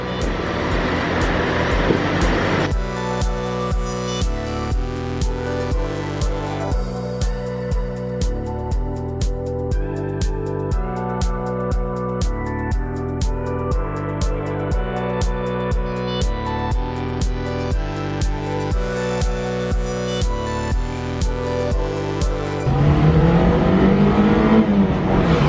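A 1980s Volkswagen engine cranking and firing up after ten years of sitting, loud and close, settling into a rapid, steady idle with regular pulsing beats before a change near the end.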